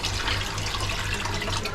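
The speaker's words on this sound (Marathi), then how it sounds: "पाणी आपल्याकडे किती फास्ट आहे बघ." Tap water gushes steadily into a home kitchen sink while plates are washed, a close, continuous hissing splash that holds even for the whole stretch with no talking.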